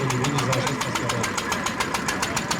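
A stationary engine drives a Forano threshing mill, its regular rapid knocking beats chugging evenly at close range alongside a steady mechanical drone, with a voice faintly present at times.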